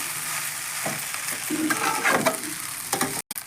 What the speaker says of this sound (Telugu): మొత్తం కలిసేటట్టు పొడి కలుపుకోవాలండి